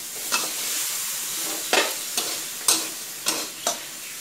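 Long beans, red curry paste and pork belly are stir-fried over medium heat, a bright sizzle punctuated by about six sharp spatula strikes and scrapes against the pan, close up without speech.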